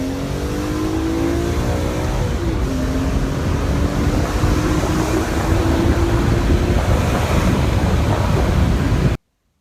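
A BMW E46 M3 with its naturally aspirated straight-six runs steadily and loudly, a smooth, droning engine note that holds and shifts slightly in pitch, with wind buffeting the microphone, before cutting off abruptly.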